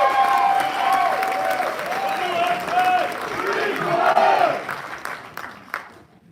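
Audience applause and crowd noise at a military wing's quarterly awards ceremony, honouring Field Grade Officer category nominees; steady clapping with voices and cheers mixed in, fading out toward the end.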